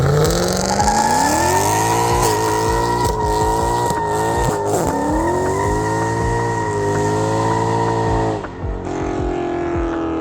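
A 2010 Mercedes E63 AMG V8 engine running loud and steady, its drone rising and falling with revs over about ten seconds, continuous and close.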